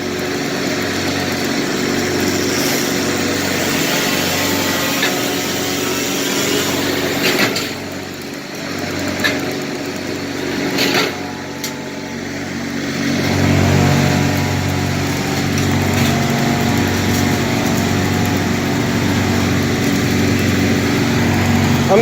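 A leaf blower running on a roof while clearing debris after tree felling gives a continuous loud engine drone with a rhythmic throb, dipping briefly in the middle before surging back up.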